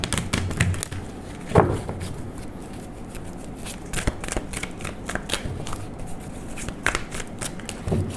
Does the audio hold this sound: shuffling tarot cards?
yes